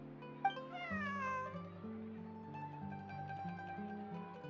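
A cat meows in Genshin Impact, one drawn-out wavering mew over soft in-game background music, close and fairly quiet.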